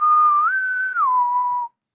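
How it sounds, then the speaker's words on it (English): A single person whistles a short tune from a song, a clear, close melodic whistle that steps up in pitch, holds, then slides back down before stopping abruptly. "Do the whistle song."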